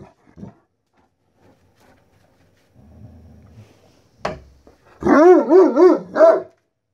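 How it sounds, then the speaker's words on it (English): After a few quiet snorts and a low grumble, a dog lets out a quick series of four or five sharp, loud barks up close. "Who's barking? Who's being a barker?"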